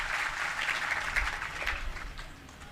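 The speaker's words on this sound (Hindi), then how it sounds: "जोरदार ताली बजाकर के सम्मान करें" Audience applause for a jail superintendent at a Jain monk's question-and-answer gathering held in a jail, a steady moderate wash of clapping that tapers off slightly at the end.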